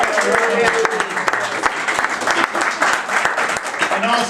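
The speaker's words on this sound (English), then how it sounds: "And also a round of applause to the man behind the woman, Jack Spayde." Loud, close applause from an audience at a retirement celebration, dense clapping throughout with voices talking and calling out over it.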